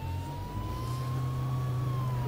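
A police car siren in the video game H1Z1 wails steadily at a sustained pitch over a low engine drone, holding close and loud for the whole short stretch with no talk.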